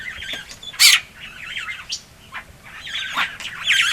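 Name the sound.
little crested barbet calling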